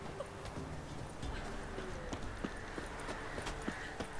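A horse's hooves clip-clop in The Witcher 3: Wild Hunt, a steady rhythm of soft thuds over a low ambient game background, with no voice heard over it.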